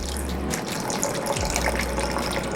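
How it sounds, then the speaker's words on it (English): About a quarter cup of water pours steadily from a tap into cornstarch for a vegan General Tso sauce, a loud close continuous gush with a low hum behind it, no talking. "to the cornstarch, we will add about 1/4 cup of water just to incorporate it."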